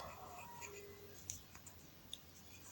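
A computer mouse clicks faintly a few times, sharp isolated ticks spaced irregularly over a quiet room hiss.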